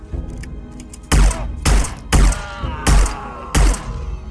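Five heavy, evenly spaced gunshots in Hitman: Blood Money, each a loud booming blast with a short decay, over low game ambience.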